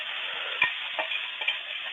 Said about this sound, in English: I'm throwing some hash browns in a pan